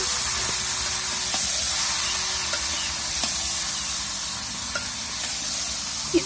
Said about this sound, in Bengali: মেরিনেট করা মাংসগুলো আমি সেখানে দিয়ে দেব এবং আস্তে আস্তে নাড়তে হবে